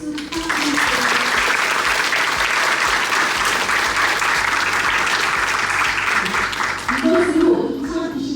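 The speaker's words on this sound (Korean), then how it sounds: "여러분 큰 박수 부탁드립니다" Sustained, loud applause from a graduation ceremony audience at a Korean language institute, dense and steady throughout, with a speaking voice faintly rising near the end.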